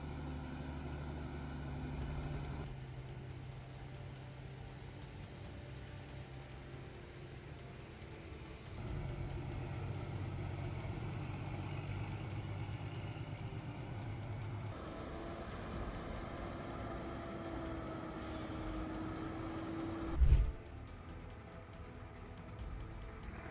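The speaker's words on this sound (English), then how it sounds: "The engine roared, the wheels constantly seeking traction" An IMT 542 Deluxe tractor strains to pull a massive log over rough terrain. Its engine gives a steady, low, humming drone that shifts in pitch as it works, with one sharp knock near the end.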